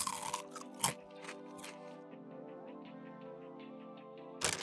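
Takis rolled tortilla chips being bitten and chewed up close, a few sharp crunches spaced out over a steady background hum, with a louder crunch at the end.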